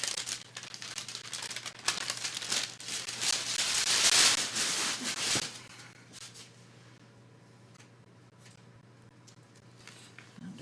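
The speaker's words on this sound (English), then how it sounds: "And again, peel off that parchment paper." Parchment paper peeled away from almond kringle dough gives a close, papery crinkling and rustling for about five seconds, then fades to a quiet hum.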